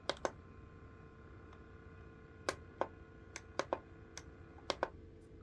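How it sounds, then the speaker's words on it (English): A battery camping fan's oscillation motor runs on a low setting, giving a very quiet, close hum broken by scattered sharp little clicks and ticks, with no talk. "I think that's the sound of the oscillation motor."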